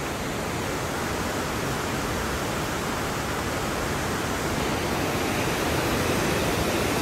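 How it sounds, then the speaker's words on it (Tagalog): Steady, full-bodied rush of a waterfall in Rizal province, a continuous broadband roar holding constant loudness throughout with no voices. "Ang dami falls, oh"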